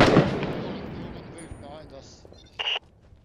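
A mortar round and gunfire crash during a car bomb convoy protection mission in Six Days in Fallujah, opening with a loud blast that fades into a long rumbling tail, then a brief sharp burst near the end.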